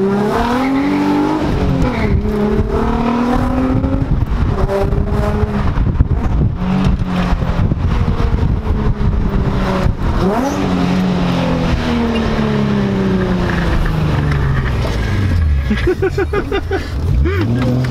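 An Infiniti G35 engine with a misfire revs hard and close, its loud tone sweeping up and down continuously through the whole stretch.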